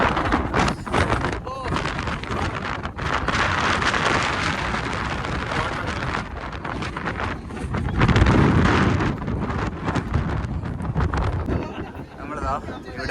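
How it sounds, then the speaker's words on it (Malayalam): Strong sea wind at Kanyakumari buffets the microphone in loud, rough gusts that surge and ease, with talking mixed in underneath. "ഇപ്പഴത്തെ നല്ല കാറ്റുണ്ട്"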